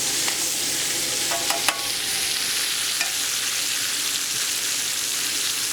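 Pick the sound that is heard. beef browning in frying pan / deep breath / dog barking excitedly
beef browning in frying pan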